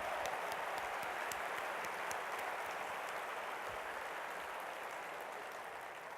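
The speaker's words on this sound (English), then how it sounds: "Let's give them a round of applause." Audience giving a round of applause at a Bob Kittell event in Jacksonville, FL, a dense, steady wash of many hands clapping, fairly distant and even, fading slightly toward the end.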